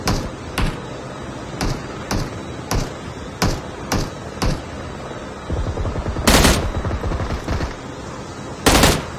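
Gunfire in the Call of Duty Mobile video game: single sharp shots spaced about half a second apart, then a short rattling burst and a few louder blasts, with no speech.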